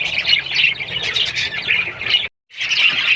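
Budgie parrots squawk almost continuously in a breeding setup, harsh and close, with a brief silent gap before the chattering calls resume.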